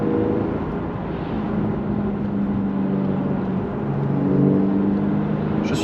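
A Porsche 911 (991) Targa 4 GTS with a 3.0-litre 450 hp engine and PDK gearbox drones steadily from inside the closed cabin, a continuous low hum that swells slightly near the end.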